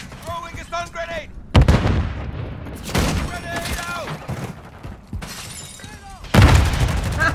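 A stun grenade in a tactical shooter video game bursts with loud, sharp booming cracks amid rapid gunfire and shattering noise, several heavy hits spread across the scene, with voices talking underneath.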